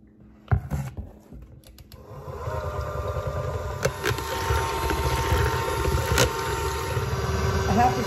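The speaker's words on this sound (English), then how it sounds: "I love this mixer. My daughter got it for me for Christmas. It's a KitchenAid." A cordless KitchenAid hand mixer whirs up to a steady motor hum after a few opening clatters and knocks, then runs continuously close by with a couple of sharp taps on the bowl.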